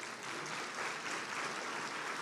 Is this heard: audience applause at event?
yes